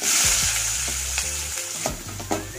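Chopped onion dropped into hot oil with cloves, cardamom, cinnamon and fennel, giving a loud, close, steady sizzle with stirring scrapes through it and no voices.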